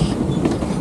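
The Georgetown Loop Railroad train rolls along near the Hall Tunnel site, a steady, close rumble of carriages over the track filling the short moment without talk.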